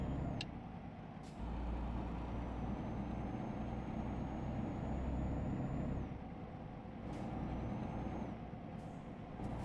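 A truck in Euro Truck Simulator 2 braking, with a steady engine drone and rumble under faint high whines and short air-brake hisses near the start and end, with no talk.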